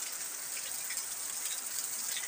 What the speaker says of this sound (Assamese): এতিয়া টিকলিকে বহি বৰষুণ চাই আছে